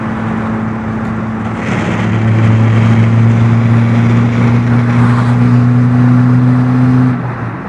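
A VW Polo TDI accelerates hard along a road, its diesel engine note rising in steady droning tones heard from inside the car, loud and continuous before easing off at the end.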